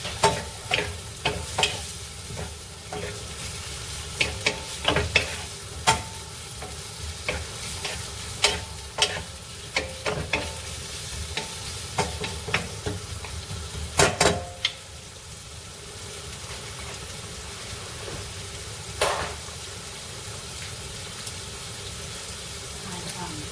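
Beef short ribs brown in a hot wok over a raised flame, a continuous sizzle broken by repeated sharp scrapes and clanks of stirring, close and fairly loud.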